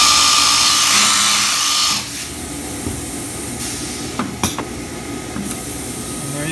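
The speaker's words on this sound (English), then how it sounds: "quick demonstration of the Biesse Drill Compact FSC dowel insertion and boring machine" A Biesse Compact FSC dowel insertion and boring machine runs with a loud high motor whine and hiss that drops after two seconds, followed by a steady hum with sharp pneumatic clacks and thumps.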